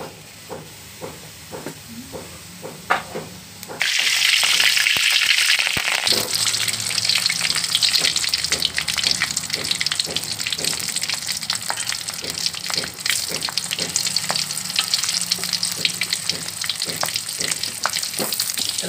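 Mustard seeds and cumin fry in oil with loud, steady sizzling and hissing that jumps up sharply a few seconds in, with scattered crackles and pops and occasional stirring scrapes throughout, no talk.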